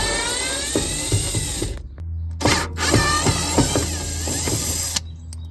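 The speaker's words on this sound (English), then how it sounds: "you're going to have 4 Phillips head screws" A power driver whirs out Phillips head screws under a Masterbuilt Gravity Series grill's control board in several close, loud bursts, with short pauses and clicking between runs, no voices.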